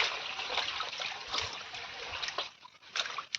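Water trickles and splashes softly inside a cave-like tunnel, a faint, continuous burble with small irregular splatters and no voices.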